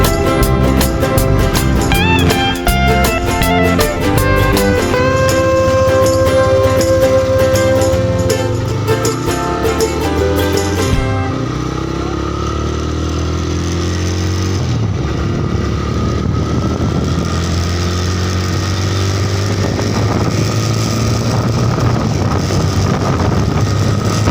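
A motorbike runs at top speed with a steady, loud engine drone, rising in pitch and then settling, under heavy wind rush against the microphone throughout.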